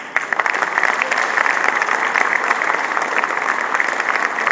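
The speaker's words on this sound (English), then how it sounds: "give a round of applause to them." Audience in a hall giving a round of applause, loud and dense clapping that stays even from start to finish, close and filling the room with no talk over it.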